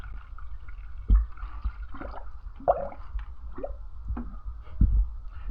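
Water gurgling and dripping into an open engine cavity while rinsing shampoo from the motor, with wet splashes and a few soft thumps, steady and close.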